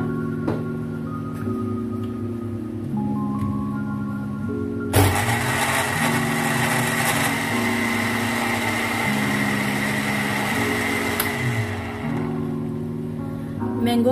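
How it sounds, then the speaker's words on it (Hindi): Mangoes blended with a little milk in a kitchen blender: a loud, steady whirring roar kicks in about five seconds in and runs on without a break. Before it starts, a low tonal hum and some faint background sounds are heard. "मैंगोज को ब्लेंड कर लेंगे। थोड़ा सा इसमें दूध डालेंगे ताकि ये ब्लेंड हो जाए।"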